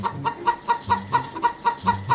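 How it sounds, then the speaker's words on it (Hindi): A hen clucks in a fast, even rhythm, about four short clucks per second, close and clear, with no voices over it. "एक दिन एक मुर्गी"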